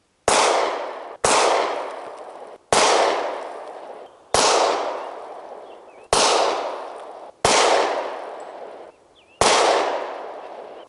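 Seven sharp, loud pistol shots fired one at a time at a steady, unhurried pace during sighting in, each crack trailing off in a short outdoor echo before the next.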